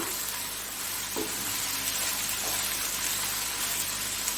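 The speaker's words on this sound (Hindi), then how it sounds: "ये देखे इसको अच्छी तरह फ्राई कर लिए।" Onions and minced keema fry in a pan with a dense, even sizzle that holds steady throughout, close and moderately loud, with a faint scrape of stirring near the start.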